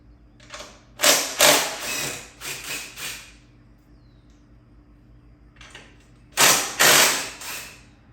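Bolts being removed from the handlebars of a 2015 Harley-Davidson Road King, several short bursts of ratcheting clicks from a hand tool with brief pauses between them, close and clear.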